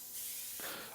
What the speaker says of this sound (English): I start the staining process by using dye stain and spraying it on.